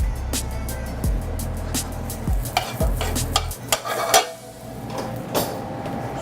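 Rice sizzles in a hot pan while a utensil stirs and scrapes through it, giving repeated clacks against the metal over a steady frying hiss.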